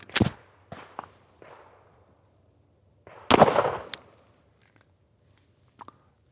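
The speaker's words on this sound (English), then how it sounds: "All right, next up, 9mm. 9mm. Glock 47." A 9mm Glock 47 pistol fires a single sharp, loud gunshot outdoors that rings out briefly, set among a few lighter knocks and handling clicks, with no talking.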